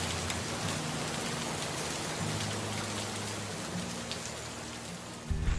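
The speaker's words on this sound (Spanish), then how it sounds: "acaba de llover" Rain falls steadily outdoors along a pilgrimage route, a dense continuous patter close by under a low hum, ending with a brief louder bump at the very end and no voices.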